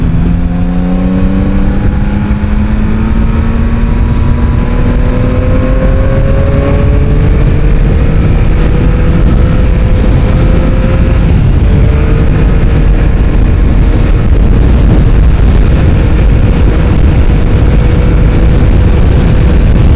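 A car engine revving hard at full throttle, loud and close, with the pitch climbing in repeated sweeps as it accelerates through gears over a constant roar of road and wind noise.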